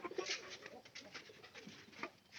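Pigeons in a loft coo softly in quick, repeated bursts, faint and close, with a voice murmuring underneath.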